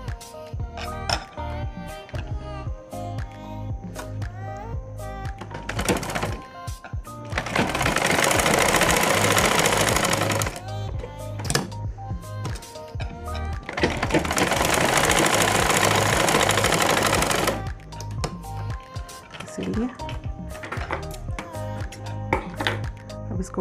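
Sewing machine stitching a fabric face mask: two sustained loud whirring runs of rapid stitching, separated and framed by quieter clicks, handling noise and a background hum.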